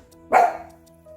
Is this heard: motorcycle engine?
no